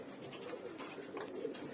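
Faint, low cooing from pet doves murmurs on and off over a little under two seconds of quiet background, with no one speaking.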